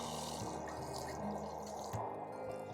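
Water splashes and patters steadily onto the soil of a newly planted fall garden, a close continuous trickle with a brief louder splash near the end, with no talking.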